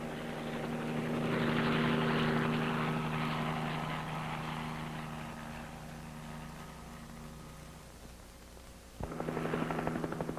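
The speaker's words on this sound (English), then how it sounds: "Then the helicopter heads for the other end of the line" Marine helicopter flying over terrain, a steady rotor and engine drone that swells and recedes, then cuts back in abruptly near the end.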